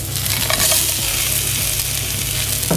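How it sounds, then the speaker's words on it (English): Crispy tofu and softened vegetables sizzle steadily in a pan, a dense continuous hiss with a few scraping stirs and light clatters, close and fairly loud with no talking. "I'm just going to return the crispy tofu to the pan."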